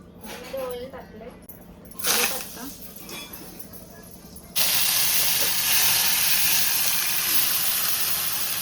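Oil added to a hot pan while frying bombil fish bursts into a loud, steady sizzling hiss that continues to the end, with speech heard earlier beforehand.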